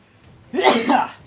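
A single sharp human sneeze, close and fairly loud, a quick burst after a brief inhale.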